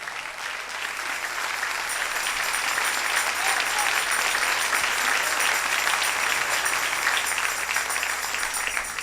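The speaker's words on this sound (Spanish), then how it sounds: "Dele ese aplauso al Rey" A church congregation at a Spanish-language sermon breaks into sustained, loud applause that swells and holds steady for several seconds, with faint voices mixed in.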